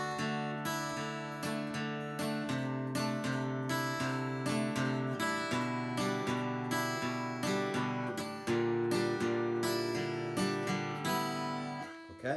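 An acoustic guitar plays the opening section of a song's intro, a quiet, steady fingerpicked pattern of ringing notes over bass strings, heard alone without speech.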